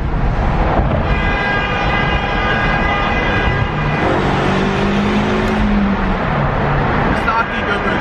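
A car engine drops a gear and revs inside a tunnel with the windows rolled down, a loud, enclosed, echoing drone with the pitch swinging as the revs shift. Other sound sits faintly in the mix.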